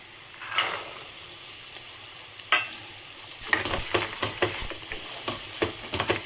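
Green peas hit a pan of well-cooked masala for matar paneer and sizzle as a spoon scrapes and stirs them in, the frying hiss rising into a busy stretch of clatter and crackle.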